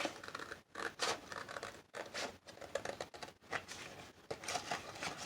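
Scissors snipping through paper while making a spring junk journal, a run of close, crisp cutting and scratching strokes with short pauses between cuts.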